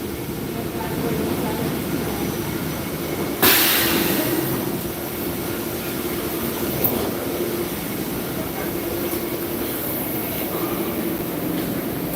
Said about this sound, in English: there's one of the diesels